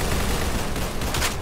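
Pistol fire in the Arsenal video game comes as a dense, loud wash of rapid shots with a couple of sharper cracks near the end, no voices.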